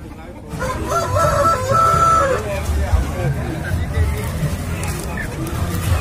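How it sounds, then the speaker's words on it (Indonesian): Bangkok-breed chickens and roosters crow and cluck at a traditional chicken market in Tulungagung, against a steady hubbub of crowd chatter and passing traffic. "Ayam-ayam jenis Bangkok yang ada di pasar ayam tradisional ini, seperti yang nampak dan terlihat di video ini rekan-rekan."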